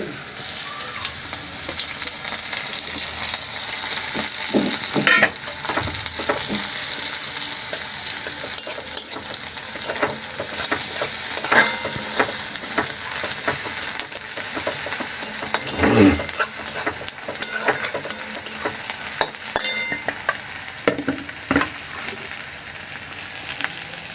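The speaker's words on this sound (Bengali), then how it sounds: "এবার রসুন থেঁতোটা দিয়ে দিলাম।" Loud continuous sizzling of crushed garlic frying in hot oil, with occasional scraping and stirring sounds from a utensil in the pan.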